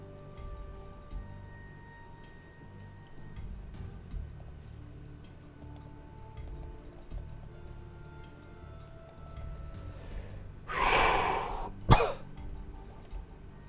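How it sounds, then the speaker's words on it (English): A quiet room, then one harsh, rough cough near the end, followed by a brief, sharp second burst. "Uh-oh, just coughed again."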